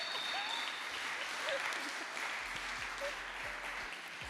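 Steady audience applause fills a conference room after a talk on anthropology, Web3 and Solana, a dense even wash of clapping that holds at moderate loudness throughout.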